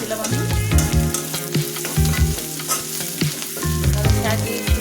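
Onions with green chilli slices fry in mustard oil, crackling and sizzling loudly up close while a spatula stirs in repeated scraping strokes; music plays underneath.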